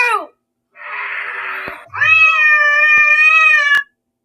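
A cat-like meow that may be a human imitation, two drawn-out wailing cries with a short gap, the second long and tonal, loud and close with no other sound around it.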